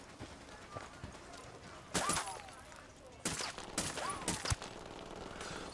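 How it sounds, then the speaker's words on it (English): Gunfire in Ghost Recon Wildlands, a few sharp shots followed by rapid bursts in two clusters, loud against a quieter ambient background. "No other choice but to open fire."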